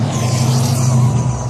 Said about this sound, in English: Someone got a loud car over there.